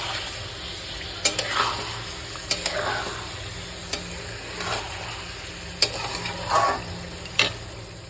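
Chicken with spices and yogurt fries in a pot for chicken teheri while a spoon stirs it. Several sharp scraping strokes ride over a continuous sizzle.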